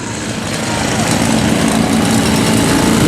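A 650 Meriden motorcycle engine is raced hard at a Good Friday racing meeting at Herne Hill, giving a steady, loud, continuous roar with no breaks, while a commentator talks over it.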